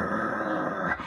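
Dogs growl in the background of a hardcore Filipino rap track, a steady close rumble with faint whimpers and yips running under the beat for about a second.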